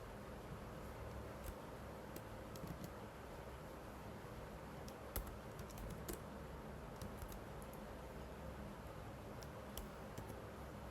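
Computer keyboard typing while C++ code is written, scattered faint key clicks in short bursts over a steady hiss of background noise.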